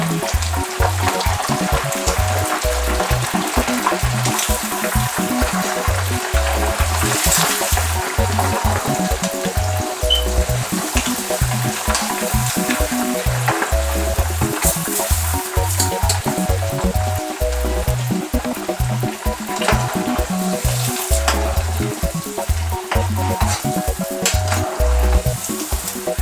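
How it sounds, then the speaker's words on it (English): Meat for shito sizzles and crackles loudly in a hot pan, a steady dense frying hiss with occasional stirring scrapes and no talking. "I'm going to fry it raw and make sure that it's very,"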